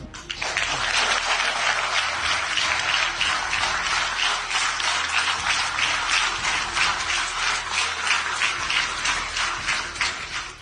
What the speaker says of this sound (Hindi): लोगों ने इतनी ताली बजाई है